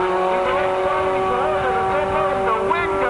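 Wheelie-pulling racing buggy at a drag-strip event accelerating hard through the gears, a loud, steady engine roar with rising and shifting tones, heard close and continuous throughout.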